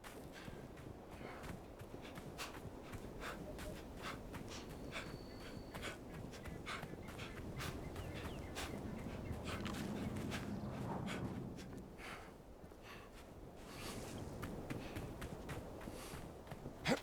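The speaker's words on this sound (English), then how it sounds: "Good doggos." Dogs in the video game Indiana Jones and the Great Circle move about with soft paw steps and panting, mixed into a busy, continuous in-game ambience with no talk.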